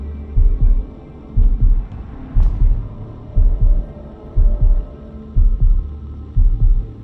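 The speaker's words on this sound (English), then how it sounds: "A heartbeat." A heartbeat sent in an encoded, compressed transmission from a lost space colony, beating as a loud, regular low lub-dub pulse about once a second over a faint electronic hum, with no voices.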